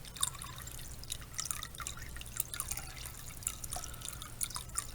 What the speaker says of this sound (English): And we'll just add some water now to our bowl here.